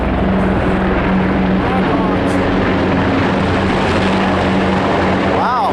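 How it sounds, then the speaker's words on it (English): Loud, steady rotor roar with a low throbbing hum as three or four military Black Hawk helicopters pass close overhead above a forest trail in Pennsylvania, filling the whole stretch without letting up. "looks like we got a helicopter. Wow, it's pretty close, huh?"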